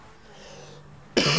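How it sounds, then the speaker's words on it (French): A sick man's sudden cough bursts out loud and close at the end, after a stretch of quiet room tone, one harsh throaty burst. "Désolé si je tousse en même temps parce que je suis malade."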